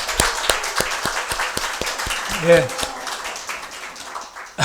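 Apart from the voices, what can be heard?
congregation applause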